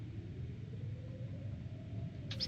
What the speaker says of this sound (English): Still sounds pretty stormy out there.